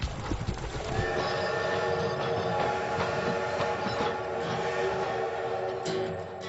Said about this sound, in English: they wait until they hear the engine chugging in the distance